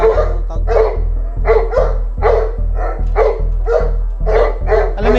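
A Kangal, a giant livestock guardian dog, barks loudly and close in a steady series of about a dozen deep, forceful woofs on a mountainside, with no talking over it.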